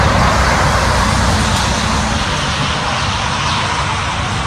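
A car passes on a busy country street, a broad steady roar of tyres and engine filling the clip at close range with no talk over it.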